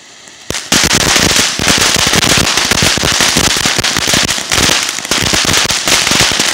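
A TNT fountain firework goes off with a sudden start into dense, loud, continuous crackling and popping that stays close and steady for several seconds.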